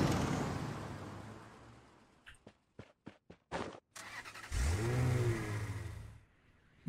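A vehicle engine in a squad shooter game rumbles, cuts out in choppy stuttering bursts, then starts up again and revs with a rising whir before fading, close and fairly loud.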